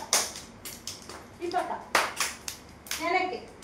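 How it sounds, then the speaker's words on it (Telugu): A group of children claps hands in rhythm during an exercise routine, sharp near claps spaced about half a second apart, with children's voices chattering between them. "వెనక్కి క్లాప్స్ కొట్టండి"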